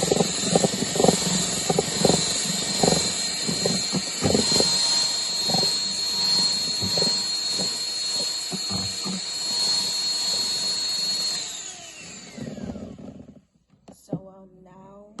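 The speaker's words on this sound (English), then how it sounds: "I'll whisk it once again. I won't speed it up this time because it's not gonna take long" An electric whisk whirs steadily through pancake batter and sugar, a high continuous buzz with irregular clunks against the bowl, then the motor winds down and stops near twelve seconds.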